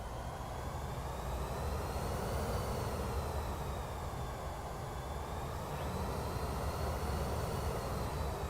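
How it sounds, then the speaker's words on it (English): A Pilatus PC-24 business jet in Microsoft Flight Simulator 2024, its twin jet engines giving a loud, steady roaring whine with a high tonal hum that drifts slightly in pitch, continuous and unbroken. "The jets are loud."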